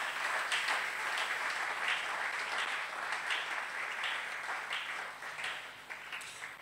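A church congregation claps for the Lord during a worship service, steady and moderately loud, a dense patter of many hands that slowly tapers off toward the end, with no speech over it.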